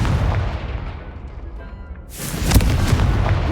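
A Confringo spell blast in Hogwarts Legacy, a fading whoosh followed by a sudden loud burst of fiery explosion noise with a sharp crack partway through, rumbling on to the end.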